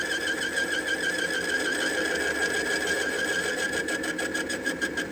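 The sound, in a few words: lathe boring bar intermittently cutting off threads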